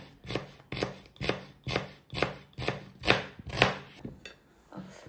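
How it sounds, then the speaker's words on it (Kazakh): A knife chops carrots on a cutting board, cut into small pieces for frying in oil, with about nine steady, evenly spaced thuds heard up close and alone. "мен осылай қылып турайым."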